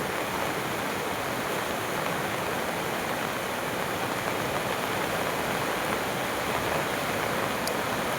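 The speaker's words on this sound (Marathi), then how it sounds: "आता पाणी बघा नदीचं कसं वाहतंय ते." Continuous heavy rush of a river swollen by the first monsoon rains flowing toward a small check dam, a constant full roar with no pauses, close and loud.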